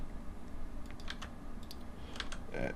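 Scattered keystrokes on a computer keyboard click in short, uneven bursts, close and moderately quiet over a steady low room hum.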